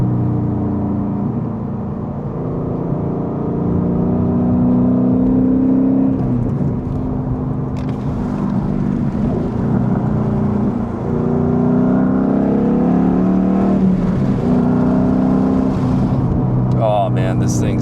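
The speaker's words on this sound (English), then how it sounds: "this thing sounds amazing. Nothing like a naturally aspirated 5-liter V8. And those quad pipe exhausts" 2012 Ford Mustang Boss 302 with a naturally aspirated 5-liter V8 and quad exhaust pipes revving and pulling hard, heard from inside as a loud, rising and falling engine drone with shifts, continuing throughout.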